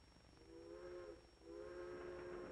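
A steam train whistle sounds in two long, harmonic blasts with a short break between them, heard over the steady rumble and hiss of the moving train in a 1940s comedy.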